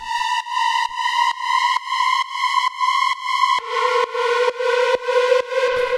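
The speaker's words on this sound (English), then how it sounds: "Then we have this little pad." Steady synth pad in a witch house EDM track, a bright hollow tone pulsing in even rhythmic chops, holding one pitch then shifting lower halfway, playing alone and fairly loud.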